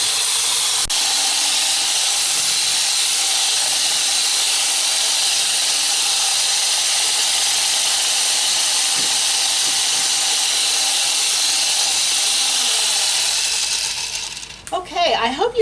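An electric mixer whips PA Dutch water sponge cake batter in a nearly overflowing bowl, producing a loud, continuous whirring hiss that runs steadily for many seconds before cutting off near the end.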